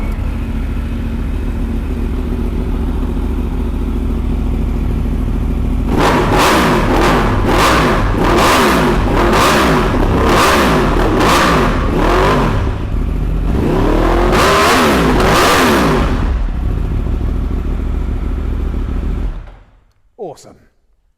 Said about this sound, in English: The full Akro system on this bike sounds absolutely unreal.